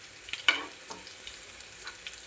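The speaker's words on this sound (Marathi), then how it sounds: "कढीपत्ता, भाजून घ्यायचं थोडं आपल्याला." Curry leaves crackle softly as they roast in a pan for a spicy bhadang puffed-rice snack, with a sharp pop near the start and faint intermittent sizzling throughout.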